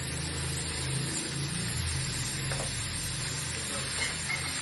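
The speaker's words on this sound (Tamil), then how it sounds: "கொஞ்சம் நெய் விட்டு இந்த தேங்காவை வதக்கி எடுத்துக்கோங்க." Grated coconut sautéing in ghee in a pan for a sweet appam batter, giving a steady, close sizzle with faint stirring scrapes throughout, no talk over it.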